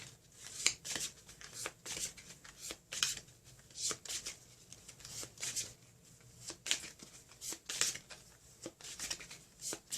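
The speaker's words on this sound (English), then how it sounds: "so this deck's all shuffled" A tarot card deck is shuffled repeatedly, giving soft rhythmic riffling bursts roughly every second, close and quiet with no talking.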